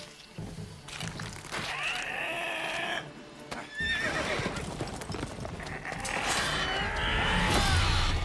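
Horse in The Witcher 3 whinnying loudly twice with high, wavering neighs over clattering hooves and game noise, close and prominent, with no one speaking.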